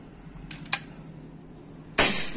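A couple of faint mechanical clicks, then a single sharp, sudden PCP air rifle shot with a short hissing decay, from a folding sidelever rifle with a 50 cm barrel.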